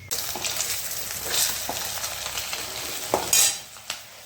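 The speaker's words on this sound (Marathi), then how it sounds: "आता आत्ताच तळून घेते" Coriander fritters (kothimbir vadi) fry in hot oil with a continuous bright sizzle, occasional stirring clinks and a louder hiss near the end.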